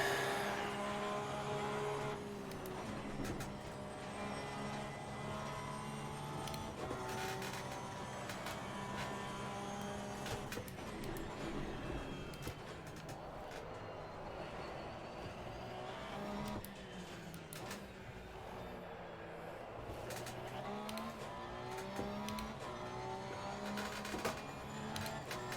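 A race car engine in Assetto Corsa Competizione, heard close up as a continuous whining drone that rises and falls through gear changes, with brief lifts and hard acceleration into higher gears, plus occasional clicks and tire noise, over about twenty-five seconds.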